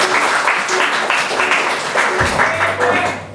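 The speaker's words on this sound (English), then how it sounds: "And give a round of applause for Gret." An audience at a live Dungeons & Dragons show applauds a performance, a dense wash of clapping that holds steady throughout, with a voice speaking over it near the end.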